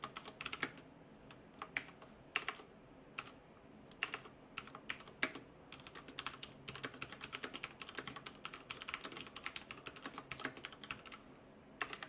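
Fast, irregular keystrokes on a computer keyboard as increment-function code is typed into a C file, clicking steadily for about twelve seconds, close and fairly quiet with no talking.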